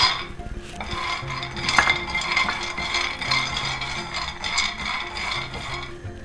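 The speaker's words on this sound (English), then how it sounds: "Now I am going to dry roast our almonds." Almonds dry roasting in a small pan over a low flame, with a steady rattle and clink of nuts and a spoon stirring against metal, close and moderately quiet.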